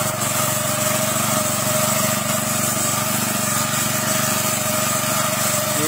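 A crop reaper's small engine runs loud and close in a field, holding a steady high droning buzz throughout with no pauses.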